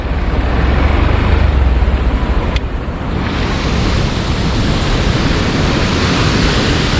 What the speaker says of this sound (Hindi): भाई देख सकते हो बहुत सारा पानी आ रहा है।